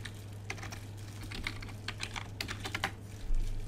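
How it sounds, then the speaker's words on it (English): Keys clatter on a computer keyboard as a username and password are entered, an irregular run of close, light clicks over a steady low electrical hum. "Type in your username and your password."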